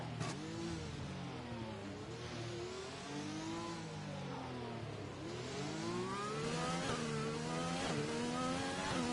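A Formula 1 race car in wet weather in Austria, short on power as it runs down the straight, its engine droning continuously with pitch sweeping up and down through gear changes, steady and fairly close, with no talk.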